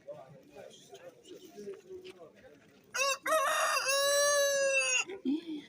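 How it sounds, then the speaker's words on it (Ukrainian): At a poultry exhibition and sale, people talk quietly, then a rooster crows loudly and nearby in a long drawn-out call, with chickens clucking around it. "Ось такі у нас кури."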